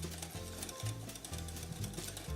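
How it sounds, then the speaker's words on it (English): Hot coffee syrup whisked slowly into egg yolk in a bowl, a fast mechanical-sounding rhythmic whirring and clicking that repeats in short even cycles, close and steady, with no talk. "So we just want to whisk it in very slowly."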